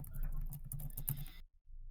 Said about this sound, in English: Sorry, just hearing you typing.